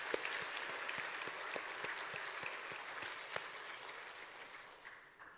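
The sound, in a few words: congregation clapping at dawn church service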